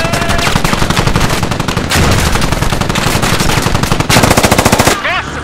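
Rapid bursts of machine gun fire in the video game Squad rattle repeatedly and loudly, with brief pauses between long volleys.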